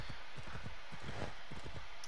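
Horse hooves clip-clop in a steady, rapid rhythm as a mount travels along in a video game, close and continuous for about two seconds with no talking.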